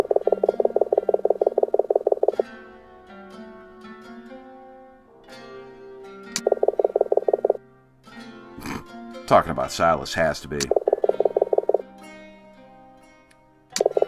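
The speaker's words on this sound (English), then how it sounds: "This frog." Frog croaking in the video game Ghost of a Tale, loud rapid rattling croak bursts repeating in several long runs, with someone talking briefly between them.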